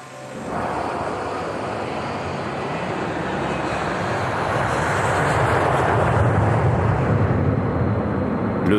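Alaska Airlines Flight 261, an airliner bound for San Francisco on 31 January 2000, takes off with a loud, steady jet roar that swells gradually and holds for several seconds, with no voices.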